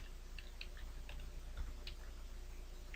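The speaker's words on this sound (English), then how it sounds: "So I type my username" Soft, close clicking of keys on a computer keyboard as a username is typed, irregular light taps over a faint steady hum.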